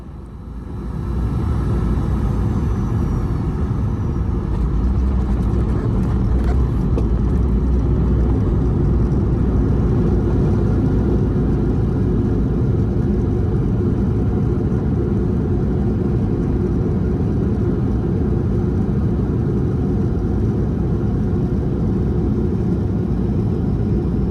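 Inside a Garuda Indonesia Boeing 737-800 landing at night on runway 11 at Yogyakarta International Airport and slowing down, a loud, steady, low cabin rumble fills the whole stretch without letting up.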